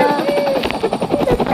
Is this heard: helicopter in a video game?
yes